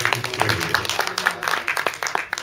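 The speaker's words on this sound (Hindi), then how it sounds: "जोरदार तालियां प्लीज" Brief, lively audience applause at a theatre show, welcoming a singer, a busy, continuous patter of many hands.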